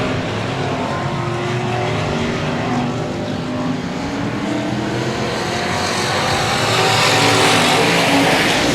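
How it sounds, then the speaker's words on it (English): Race cars roar around the Cotton Bowl Speedway dirt track, a dense, continuous engine drone with a pack passing close and swelling louder near the end, no voices. "Eric Jones looking to try to do something with the 48 car."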